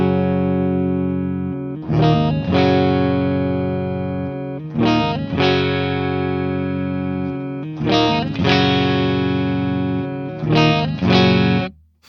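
An electric guitar plays sustained chords through an Orange Pedal Baby 100 power amp with a muffled, dark tone, each strum ringing out for several seconds before the next.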